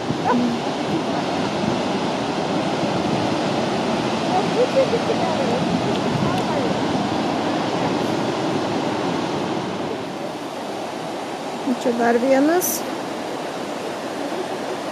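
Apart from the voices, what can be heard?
Yellowstone waterfall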